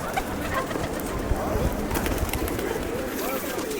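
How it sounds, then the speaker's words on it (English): Pigeons coo steadily in a busy Venice square, soft repeated calls set against a constant crowd murmur and nearby chatter. "we just got some pictures with some pigeons"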